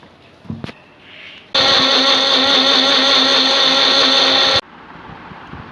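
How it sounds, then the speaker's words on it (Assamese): An electric grinder whirs loudly and steadily for about three seconds as it blends mint chutney with ginger, garlic, green chili, raw mango and salt. Quiet handling noises come before and after. "পদিনা চাটনিটোত আদা নহৰু কেঁচা জলকীয়া আন্দাজমতে আৰু কেঁচা আম দি নিমখ অকণমান দি পিনে চাটনি বনালোঁ"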